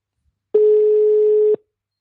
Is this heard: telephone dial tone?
yes